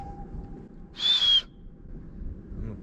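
A single clear whistle from a person practicing scooter tricks, held for about half a second, loud and close against a quiet background.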